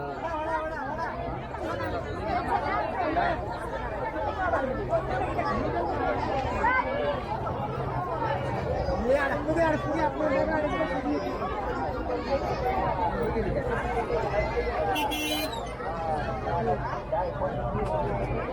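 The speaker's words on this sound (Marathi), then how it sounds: "भरपूर गर्दी है" Dense crowd chatter at the Bavdhan village jatra fair, a steady wash of many overlapping voices near and far, continuous throughout with occasional faint clatter.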